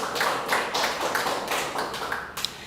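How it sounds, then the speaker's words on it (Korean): A Korean church congregation at a Wednesday service gives steady group clapping in rhythmic pulses about four per second, moderately loud and filling the room, with no talk over it. "하나님께 영광의 박수를."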